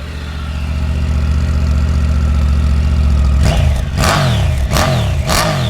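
A 2023 Triumph Tiger 900 Rally Pro adventure motorcycle engine running close and loud, a steady idle in neutral for several seconds, then a few sharp throttle blips that rise and fall in pitch.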